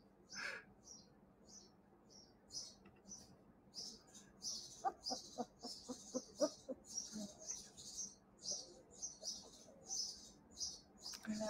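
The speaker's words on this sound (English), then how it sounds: "Taking naps to the sweet sounds of birds." Birds calling repeatedly in a steady, lively chorus, with a run of rapid chirps in the middle; fairly close and moderately loud, no voices.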